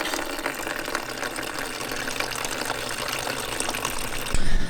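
Coolant draining out of a Mitsubishi Evo IX radiator into a bucket, a steady close splashing gush of liquid that grows louder right at the end, with no talking.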